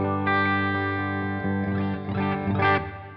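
Electric guitar on a clean tone with reverb through an amp using the four-cable method, sustained chords ringing out with a shimmering tail and a brighter strum near the end.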